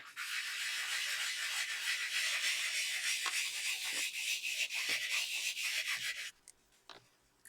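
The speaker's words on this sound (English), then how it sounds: "I'm just going to rub the cubes over it and see what I get." Steady, close scratchy rubbing of ink cubes over a surface to make a fossilized amber background, continuous for about six seconds with brief pauses, then a few light scrapes.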